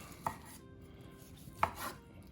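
Knife slicing through a rested roasted pork tenderloin on a board, two distinct cutting thuds about a second apart, close and fairly quiet over a low room hum.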